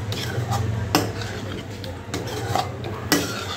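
Masala okra with salt being stirred in a pan: a soft, continuous scraping of a utensil against the pan, with a few light clinks spaced across the mix over a low background hum.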